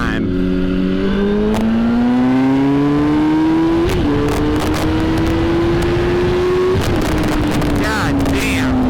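A 1000cc liter-class sportbike accelerating hard, its engine note rising steeply through the gears with brief dips at each shift, loud and close under heavy wind noise, with a rider's voice over it.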